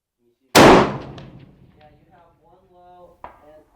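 A 7 PRC In-Rut Kraken Trekker Light hunting rifle fires a single loud, sharp shot at close range, then its report rolls and echoes away across open ground, with a faint distant ring from a 694-yard target.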